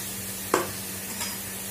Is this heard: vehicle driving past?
no